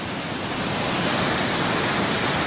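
A waterfall in West Sumbawa pours with a loud, steady broadband roar of rushing water, constant throughout with no voices.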